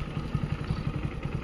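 A John Deere W70 harvester engine runs close by beside a canal track, a steady, rapid thumping chug with a faint rattling clatter over it and no talk.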